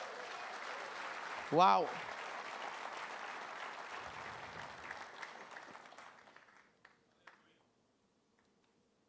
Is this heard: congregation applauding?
yes